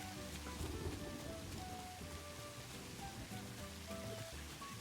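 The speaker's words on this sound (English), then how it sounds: "It is now raining." Steady rain pours down in the video game Satisfactory, a continuous dense hiss of drops on surfaces with a low rumble beneath and faint tonal game sounds, loud and unbroken throughout.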